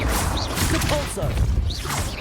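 Depulso spell cast in the Hogwarts Legacy video game, a whooshing magical burst with swishing sweeps and impact thwacks amid dense game noise, with a voice calling out the spell.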